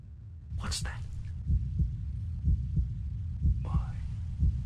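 Heartbeat in the video game The Dark Eye, a steady, low, throbbing double pulse repeating about once per second, close and muffled, with a brief spoken or whispered sound near the start.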